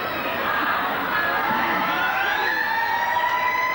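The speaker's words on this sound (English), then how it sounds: "There's the siren." A long, loud siren sounds at a 1988 Balmain vs Illawarra rugby league match to end the quarter. It holds a steady wailing tone over crowd noise throughout.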